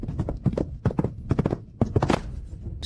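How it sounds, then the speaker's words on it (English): A horse galloping, loud rapid irregular hoofbeats pounding close by in quick bursts, with a brief whoosh at the end and no talking. "Crown Prince, stop the horse."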